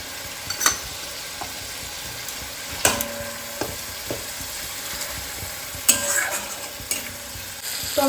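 Tomato with ginger paste and spices frying in oil in a pan, a steady soft sizzle broken by a few sharp stirring scrapes, close and fairly quiet with no talking.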